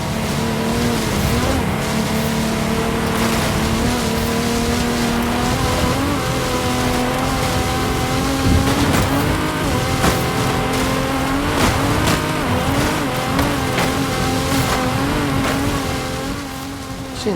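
A level 7 Ferrari P4 race car in a driving video game roars continuously, its engine note rising and falling through revs and gear changes, loud and close throughout with occasional tire noise.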